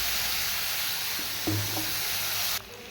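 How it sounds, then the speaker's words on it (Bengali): A spice paste added to hot oil for a vegetarian curry, sizzling with a loud, constant close hiss, a few soft clunks of a utensil partway through, then the hiss abruptly dropping in level. "দিয়ে দেবো মশলা পেস্টটা"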